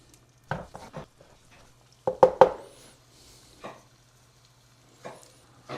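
Bacon frying in a pan: a low sizzle broken by sharp, irregular clicks and clatters, with a cluster of louder pops near the middle and quieter spatters around it.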